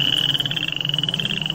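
Many frogs croaking together in a dense, continuous chorus, a steady trilling drone with a pulsing rhythm, fairly loud and close, with no voices over it.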